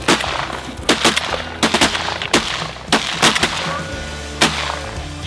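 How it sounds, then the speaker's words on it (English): Shotgun blasts fired at geese during a field hunt on a ranch, several loud reports in an irregular volley over about five seconds, close by and without talking. "Shoot them!"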